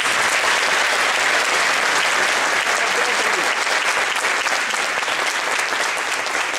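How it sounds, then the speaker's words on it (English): A large holiday concert audience gives a loud, dense round of applause for a neighborhood children's choir, continuous and even from start to finish. "Give them a big round of applause."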